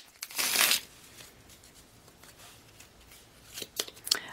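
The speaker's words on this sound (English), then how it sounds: "Okay, one more shuffle." Tarot cards being shuffled: a burst of riffling near the start, then quiet, then a few softer flicks and taps toward the end, close and moderately faint.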